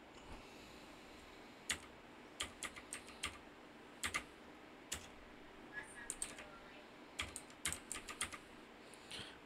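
Key presses on a computer keyboard while entering commands in a Linux terminal on Debian 11, sparse clusters of light, close clicks separated by short pauses over a faint hiss.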